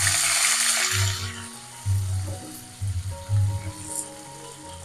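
A lengthwise-cut bajji chili drops into a hot pan, giving a loud burst of hissing sizzle that fades within a second or two, leaving quieter low humming and soft crackles.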